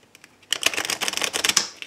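A deck of tarot cards being shuffled and cut: a few light taps, then a quick dense burst of crisp riffling flicks for about a second, close and fairly quiet.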